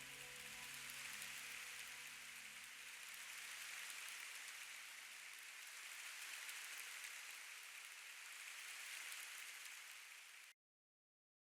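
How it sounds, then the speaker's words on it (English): Soft rain used as a background layer in a music track, a steady hiss of fine drops that runs evenly for several seconds and then cuts off abruptly, quiet and alone. "Very subtle rain."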